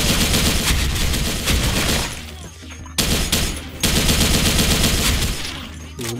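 An RPK74 light machine gun fitted with an EOTech sight fires in Special Force 2, loud close automatic bursts broken by short pauses, with faint talk now and then.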